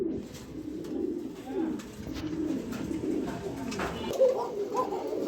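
Pigeons cooing in a bird market or loft, several soft throaty coos rising and falling over a low background murmur, close and steady with a few faint chirps.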